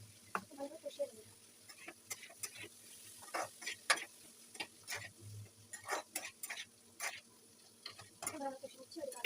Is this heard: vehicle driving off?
no